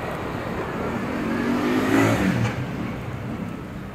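A Euro Motor Griffin 180i motorcycle engine accelerates on a test ride, a rising rumble that swells to a peak midway then eases, with wind noise over a steady low drone.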